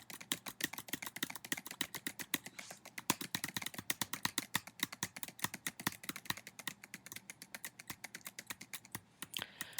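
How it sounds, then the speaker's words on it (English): A computer keyboard clacks fast and close up during a rhythm-based game, with dense, regular keystrokes filling the whole stretch and no voices over them. "that keyboard clacking was lovely for everyone to hear"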